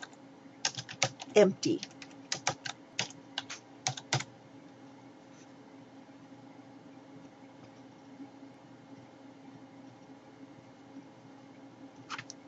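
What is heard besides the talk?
typing a folder name on a computer keyboard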